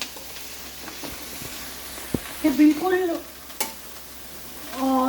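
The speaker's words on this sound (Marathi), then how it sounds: "हे आता परतून घेते मी" Fresh taro leaves sautéing in a pan, a soft background sizzle with occasional spoon knocks and stirring scrapes, while someone briefly speaks over it.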